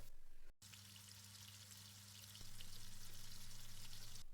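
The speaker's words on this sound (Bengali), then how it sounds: "তো এক চুলায় চিকেন ভাজা হচ্ছে" Chicken pieces frying in hot oil on a stovetop burner, cooked until crisp, give a steady, close, dense sizzle that runs throughout and grows slightly louder partway through, with no talking.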